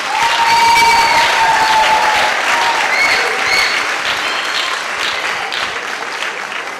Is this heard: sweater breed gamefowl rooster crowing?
no